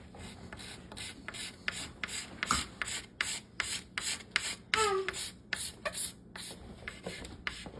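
Steady rasping strokes of a blade scraping the wood of a kids bow around a knot, close and rhythmic, repeated back and forth with short pauses between passes.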